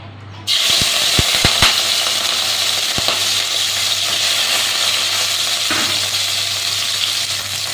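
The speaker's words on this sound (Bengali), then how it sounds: "এবার আমি চিংড়ি মাছগুলো ভেজে নেব।" Prawns drop into hot mustard oil with a few quick clinks, then a loud, dense sizzle holds steady for several seconds, easing slightly near the end.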